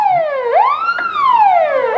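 A volunteer fire brigade truck at a May Day parade sounds a loud, close wailing siren that sweeps down, jumps back up, then glides down again in a clear rising and falling cycle, with no voices over it.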